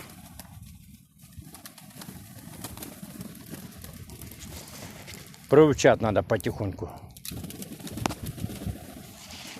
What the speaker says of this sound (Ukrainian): Це в мене якась голуби бойові